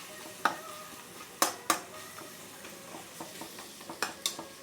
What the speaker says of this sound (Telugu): బాగా వేగిన తర్వాత కూర వేస్తే కూర బాగా వేగుతుంది.